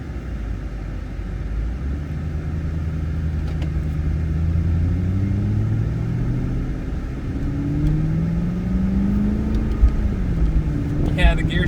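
A 2008 Aston Martin V8 Vantage engine rumbles steadily from inside the car, rising and falling in pitch through several gear shifts, with a passenger voice talking over the drive.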